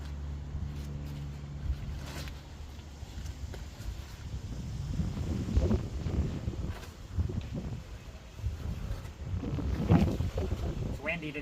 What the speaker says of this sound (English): It's windy today if you can't tell.